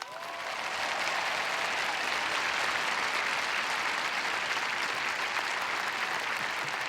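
A large audience at the 2019 Stanford commencement applauds to welcome Tim Cook, a steady, dense, sustained ovation that swells quickly and holds.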